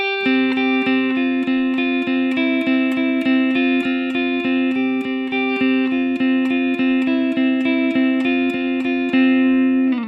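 Electric guitar in standard tuning plays an intro riff on the second and third strings, a steady run of bright, sustained picked notes ringing loud and alone for about ten seconds.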